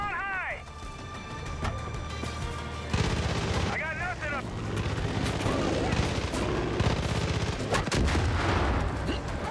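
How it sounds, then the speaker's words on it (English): Explosions and gunfire in the video game Far Cry 5, with repeated booms and bursts of shots layered under in-game sounds and a voice talking. "who's exploding stuff?"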